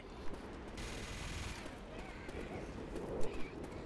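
Gunfire rattles in a Left 4 Dead 2 zombie shooter match as a short, dense burst of shots, fairly close, mixed with a few sharper thumps and game noise.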